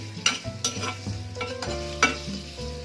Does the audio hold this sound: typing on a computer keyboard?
no